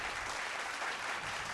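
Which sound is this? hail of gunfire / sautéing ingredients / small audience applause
small audience applause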